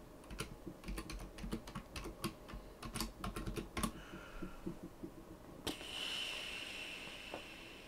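Someone types on a computer keyboard to sign in, with quick bursts of clicky keystrokes that then pause and give way to a faint background hiss, all quiet and close.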